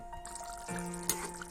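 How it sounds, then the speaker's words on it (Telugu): Water is added to simmering chicken curry in a pot, a soft, brief pour and trickle close by with a small splash near the end, fairly quiet. "ఇందులోనే కొంచెం వాటర్ యాడ్ చేస్తున్నాను."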